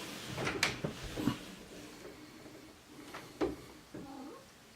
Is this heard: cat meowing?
yes